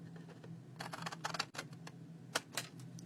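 Quiet snipping of scissors trimming the edge of cardstock for a handmade Christmas card, a run of small clicky cuts followed by two crisp snips, close-up over a low steady hum.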